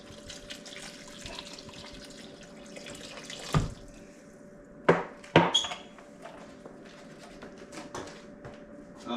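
Gallon of apple juice poured into a pot of goulash, a steady liquid splash running under a faint background hum, with a few louder sloshes near the middle.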